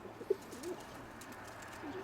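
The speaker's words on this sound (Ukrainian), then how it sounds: "Цей голуб е, я привіз з Кривого озера, мені Саша подарував його" A pigeon brought from Kryve Ozero coos softly in an aviary, a few faint, low calls spaced apart against a quiet background.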